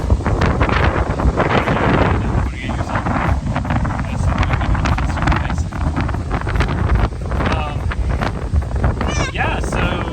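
Wind buffets the microphone on a beach in the Apostle Islands, a loud continuous rumble with gusts, while people talk over it.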